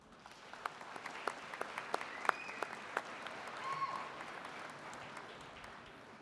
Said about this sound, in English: So graduates, please give your friends and family a big round of applause.